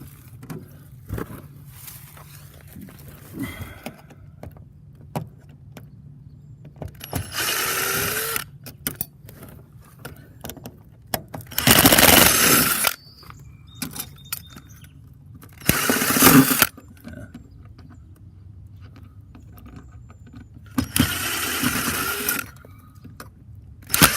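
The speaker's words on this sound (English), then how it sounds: "We're gonna unscrew these here" A power driver unscrews screws on an aluminum boat in several separate loud bursts of whirring, each lasting a second or two, with quiet pauses between them.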